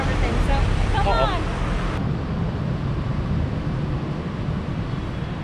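Steady street traffic noise outside a hotel in Cebu, with a broad, constant rumble of passing vehicles and taxis, and a brief higher tone early on before the hum continues evenly.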